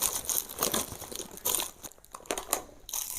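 A heavy plastic bag crinkles and crunches as it is opened, making continuous close rustling bursts with no voices.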